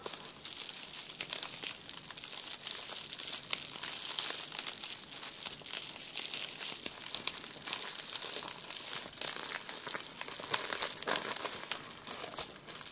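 Plastic packaging crinkles and rustles continuously up close, soft crackling handled without pause and no voices.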